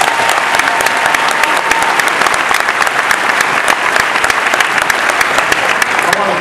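Loud, dense applause from a crowd at a campaign rally held in a college facility in Iowa, with sharp claps sustained evenly throughout and a voice faintly underneath.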